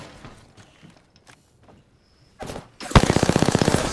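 Automatic weapon fire in the video game Apex Legends: scattered quiet in-game clicks and shots, then a short burst and a loud, rapid, rhythmic volley of close gunfire with no voices.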